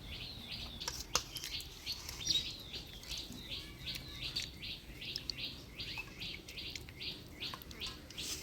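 A bird chirps repeatedly in a quick, regular series of short high notes, fairly faint, over a low background with occasional clicks and soft household sounds.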